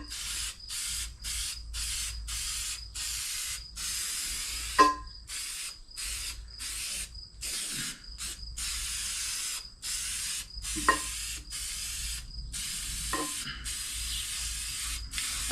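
Repeated bursts of aerosol spray paint hissing onto a set of wheels being coated in Tropical Glitz mint pearl, short rhythmic sprays separated by brief pauses, close and steady, with a few small clicks from the can.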